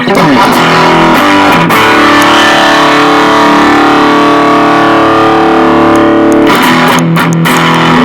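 A loud electric guitar through a distortion pedal at maximum holds a thick, heavily distorted sustained chord that rings out, then fades into noisy buzzing.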